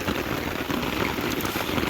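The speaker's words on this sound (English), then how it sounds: "Stop raining!" Steady rain beats down on an Appalachian Trail campsite, a close, dense hiss of drops that stays even throughout. No one speaks.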